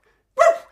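A single sharp dog bark, close and fairly loud, breaking out of silence and fading quickly.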